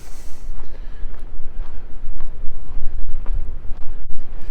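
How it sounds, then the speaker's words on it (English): Gusty wind buffeting the microphone at a windy street corner beside an office building in Regina in January, a continuous low rumble with sharp rises and drops throughout, no voices. "This is always a very windy corner here because of the office building there."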